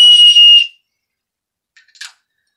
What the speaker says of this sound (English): you have an emergency whistle.